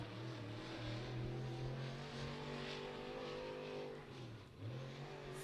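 A Pro Late Model race car on a qualifying lap at Beckley Motor Speedway, its engine holding a loud, sustained drone that dips briefly as it lifts off, then climbs again near the end.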